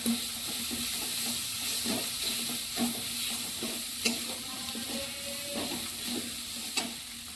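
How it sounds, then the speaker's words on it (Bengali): Masala with ginger paste is stir-fried for a katla fish curry, with a steady sizzle under repeated scraping and stirring strokes of a spoon against the pan, close and continuous. "এবার লাস্টে আদা বাটাটা দিয়ে দিলাম। ভালো করে আমি এবার কষে নিলাম।"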